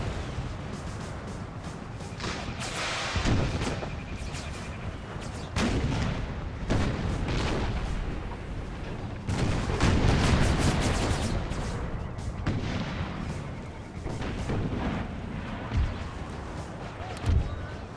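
Repeated booming artillery cannon blasts and crackling gunfire rumble across a noisy video game battlefield at the First Battle of Bull Run, with heavy bursts recurring every few seconds.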